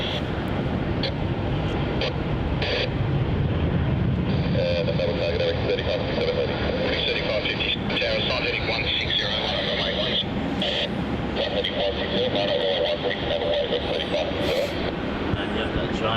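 An aircraft takes off from runway 16 at Melbourne Airport, a broad, continuous engine roar holding steady from start to finish with a person talking over it.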